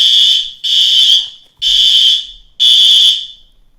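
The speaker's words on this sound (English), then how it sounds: "Is that a fire alarm? That is definitely a fire alarm." A building fire alarm sounds in four loud, evenly spaced electronic blasts, each about a second long with short gaps between, with nothing else heard.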